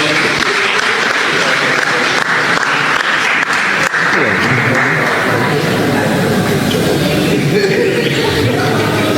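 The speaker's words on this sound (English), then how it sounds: "A round of applause for Shirley Maki as she comes forward." A crowd at a government event with farmers claps loudly and steadily as a woman comes forward, the applause close and sustained with a murmur of voices mixed in.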